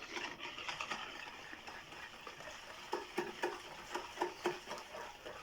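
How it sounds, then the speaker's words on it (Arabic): Salt being stirred into a bread dough mixture in a bowl, giving soft scraping, clicking stir sounds that grow into a steady run of sharper taps and scrapes toward the end. "وغنضيف هاد الملحه وغنخلطو"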